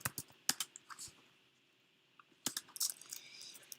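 Java code being typed on a computer keyboard, with bursts of quick close key clicks separated by a short quiet pause.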